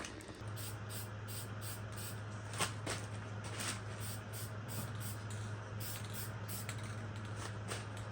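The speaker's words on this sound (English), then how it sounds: "This piece is getting painted. This is my little paint booth setup." Spray gun painting a Mazda Miata front-end body piece in a small home paint booth: a steady, close hiss of spraying runs throughout, with a low hum beneath and faint clicks and shuffles.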